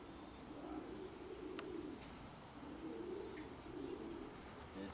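Pigeons coo in soft, low, rolling phrases that repeat at a moderate distance over a steady outdoor hiss, with faint chirps mixed in and no talk.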